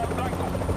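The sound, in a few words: Hind attack helicopter flying in, video game Black Ops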